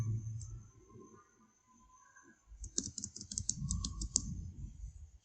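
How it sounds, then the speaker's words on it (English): Computer keyboard being typed on, a short burst of crisp clicks followed by a longer run of rapid, evenly spaced key presses, close and moderately loud with a faint background hum. "press and hold shift and draw this line"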